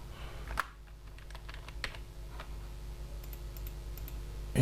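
Keys click on a computer keyboard as Ctrl+C is pressed while working in Wilcom embroidery software. A few sharp taps stand out against a quiet hum, with one louder click near the start and lighter clicks later.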